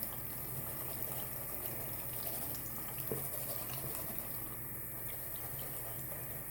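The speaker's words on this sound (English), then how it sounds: "I can always put it under the water and get it, rinse all that soap off." Tap water runs steadily into a sink while soap is rinsed off a makeup brush, a continuous moderate gush with no talking over it.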